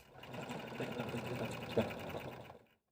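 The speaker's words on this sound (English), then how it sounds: "Let's go sew." A sewing machine runs steadily for a few seconds, stitching across a tote bag handle strap just below the foam line, a close continuous whir that stops abruptly.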